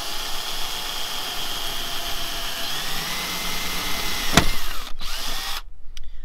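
A power drill with a 2.5 mm bit whines steadily and loudly, its pitch holding, then cuts off abruptly near the end with a brief click.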